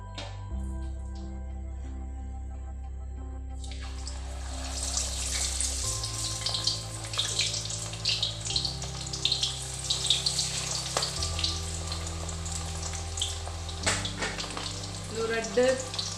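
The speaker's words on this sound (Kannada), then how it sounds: "ಆಯಿಲ್ಗೆ ಫಿಶ್ ಬುಡ್ಕ" Fish pieces drop into hot oil for a street-style fish fry, setting off a loud, continuous crackling sizzle that follows a quiet start, with occasional clatters and no speech over it.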